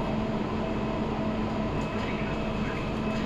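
Steady, close rumble and hum of a Riyadh Metro green line train in motion, heard from inside the carriage as a continuous rolling drone with no distinct breaks.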